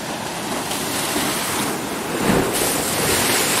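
Big ocean waves crash on a shore where people go surf casting, a loud continuous roar with wind buffeting the microphone and a swell that surges near the end; no one speaks.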